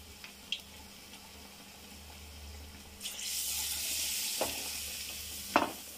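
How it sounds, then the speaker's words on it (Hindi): Stuffed leftover roti snacks fry in an oiled pan at home, with a soft steady sizzle swelling into a brighter hiss and a few sharp spatters and clinks. "और इनको अभी ब्राउन होने तक सेक लूँगी"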